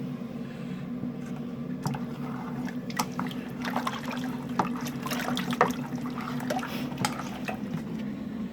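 Hot water poured from a kettle into a Coopers IPA homebrew kit can, a soft continuous trickle and slosh with scattered splashy ticks over a steady low hum.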